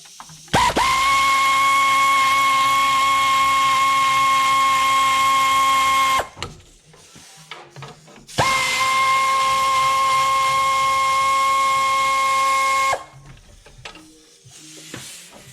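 Power tool whining steadily as 5/16 bolts are removed from a 7.3 Powerstroke diesel engine in a truck, two long close, loud runs of about five seconds each, separated by a short gap with faint clinks.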